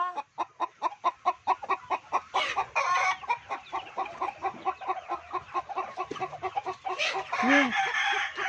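A hen clucks on a farm while laying eggs in a nest, a close, steady series of rhythmic clucks with a few louder squawking bursts.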